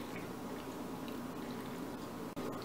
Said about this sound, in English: I'm just going to pour it right in there